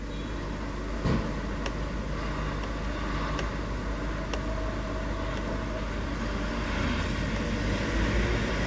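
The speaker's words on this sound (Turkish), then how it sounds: "Çalıştıralım arabayı." A Kia Bongo truck engine runs at a steady, fairly quiet idle, a broad even rumble with a few faint clicks, heard close by with no talking.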